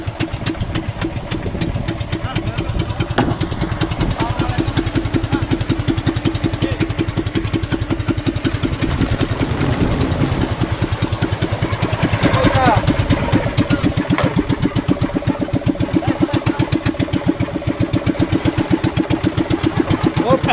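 A small boat engine runs continuously with a steady, loud, rapid mechanical chugging that stays close and unbroken for the whole stretch.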